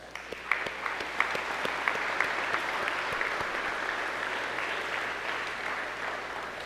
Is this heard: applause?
yes